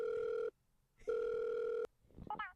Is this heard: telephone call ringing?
yes